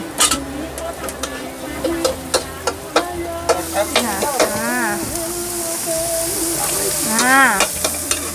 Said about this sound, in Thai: กระเพราเนื้อก่อนนะคะทุกคน